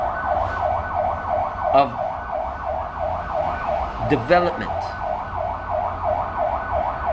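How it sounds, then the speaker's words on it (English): An emergency vehicle siren wails continuously in a steady rising and falling cycle, loud and fairly near amid traffic, with someone talking over it and a few sharp honks mixed in. "I hear all these sirens, don't know what happened"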